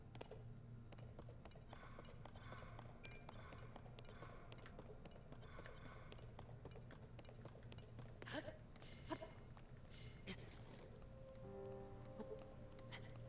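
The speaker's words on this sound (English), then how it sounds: "because it's raining?" Rain patters steadily on surfaces in Zelda: Tears of the Kingdom, a soft continuous wash under a low game hum, with a few brief clicks and mechanical ticks breaking through near the end.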